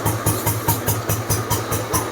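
Restored 1968 Royal Enfield Bullet motorcycle idling, its single-cylinder engine thumping in an even, steady beat of about four pulses per second, close by and without speech.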